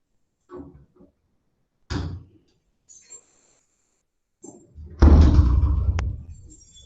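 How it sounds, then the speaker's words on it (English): An interior door pushed shut in a room, a few soft handling bumps and footsteps followed by a loud close thud and rattle, with brief speech earlier. "I'm going to shut my door real quick so that we don't get noise"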